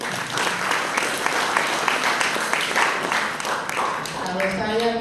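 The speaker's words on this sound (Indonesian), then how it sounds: "Coba kasih tepuk tangan dulu." A church congregation at an Easter service claps steadily for several seconds, dense and fairly loud, with voices mixed in under the applause.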